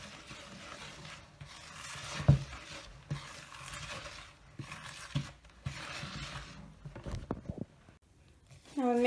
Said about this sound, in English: Now we're mixing it all together.